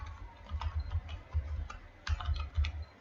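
Steady typing on a computer keyboard while entering a command to set up a Python virtual environment: quick, irregular clusters of close, soft key clicks with brief pauses.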